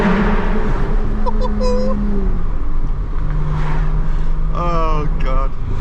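A car downshifts inside a tunnel, its engine droning loudly and steadily, then blipping through a few sharp rising revs near the end, close and echoing.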